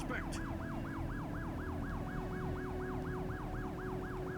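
Police car siren wailing in a steady repeating rising-and-falling cycle over a low rumble in The Precinct video game, continuous and moderately close, with no speech.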